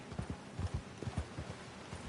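Rapid hoofbeats clatter in a quick, uneven rhythm, fairly quiet, a horse galloping in the video game Red Dead Redemption 2.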